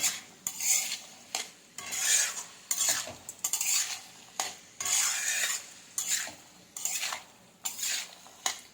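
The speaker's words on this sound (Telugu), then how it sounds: "వేసుకున్నాక వీటన్నిటిని కలిసేలా ఒకసారి కలుపుకుందాం" Beans, potato and carrot curry stirred in a pan, a rhythmic series of about a dozen close scraping strokes of a metal spoon with soft sizzling between them.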